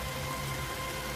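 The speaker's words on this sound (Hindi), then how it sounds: "महसूस करो, बारिश रुक रही है।" Rain falls steadily in a dense, even hiss that fills the whole moment without a break, moderately quiet and with no voices over it.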